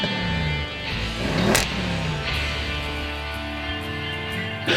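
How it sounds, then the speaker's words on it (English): An uprated 680-horsepower 4-litre V8 car engine with a sports exhaust revs loudly nearby, its note rising and falling through several blips before settling into a sustained drone. "The 4-litre V8 engine has been uprated to 680 brake horsepower, and a suitable sports exhaust has been fitted to make sure that people know you're around"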